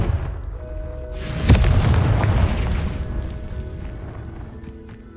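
A Confringo fire spell detonates in Hogwarts Legacy, a single loud booming blast with a rumbling tail that fades over a few seconds amid game ambience.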